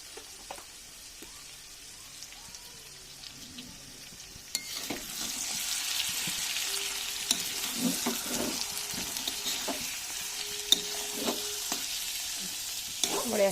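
Goat meat with salt and turmeric frying and being stirred in a pan, quiet at first, then a steady sizzle with spoon scrapes and clinks that continues to the end.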